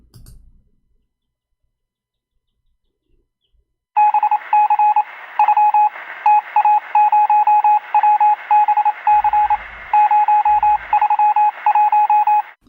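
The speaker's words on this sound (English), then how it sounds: "This is Morse, this is not Bill" Morse code tones: a steady series of short and long beeps at a single pitch, loud and clear after a few seconds of silence, with a couple of low thumps underneath.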